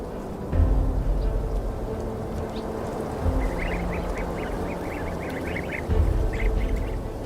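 Sea geese calling in a string of short, nasal honks at moderate distance, in two bursts over a steady low rumble of wind or water.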